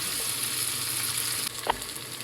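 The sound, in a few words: onions and bacon frying in a pan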